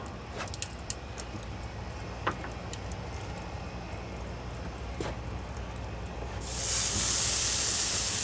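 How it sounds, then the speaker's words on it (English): Ribeye steaks go onto a charcoal grill burning oak lump charcoal with oak and apple smoking chips, and a loud, steady sizzling hiss starts near the end after a few quiet clicks and scrapes. "So let's go ahead and put our steaks on here."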